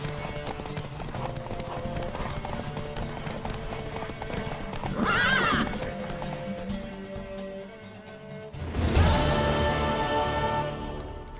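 In The Witcher 3 video game, hooves clatter steadily while a horse lets out two loud whinnies, the second louder, over a busy background of movement and faint voices.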